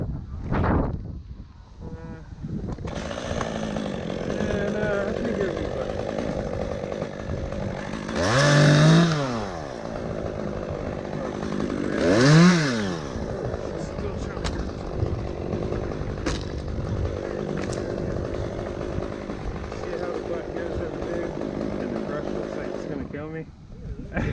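Chainsaw cutting a tree branch high up, its engine droning steadily at middle distance and rising in two revving surges, with someone speaking over it throughout.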